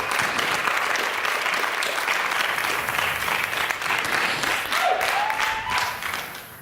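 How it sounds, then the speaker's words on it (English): A talk audience bursts into sustained applause, a dense wash of many hands clapping at steady loudness that tapers slightly near the end, with no voices over it. "Give him a big round of applause, please."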